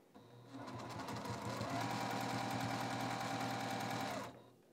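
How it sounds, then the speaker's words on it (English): A sewing machine stitching two quilt fabric squares right sides together with a quarter-inch seam, running as one steady, rapid whirring burst of about four seconds that starts and stops cleanly with nothing else heard. "we're gonna take our C squares and just sew them together, right sides together, using a 1/4 inch seam allowance."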